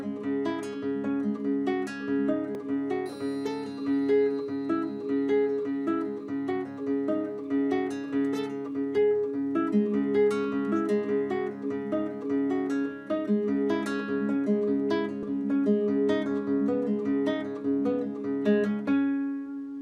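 Classical guitar playing a passage from the fourth movement of Domeniconi's Koyunbaba, with steady repeated pull-off figures over a sustained low drone, played continuously and evenly at moderate loudness with no talking.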